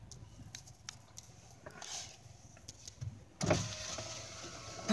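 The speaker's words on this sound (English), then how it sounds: "Put the window down." A car's electric power window lowering from inside the vehicle during a railfanning stop, a motor whir rising near the end over faint ambient rumble and scattered clicks, fairly quiet overall.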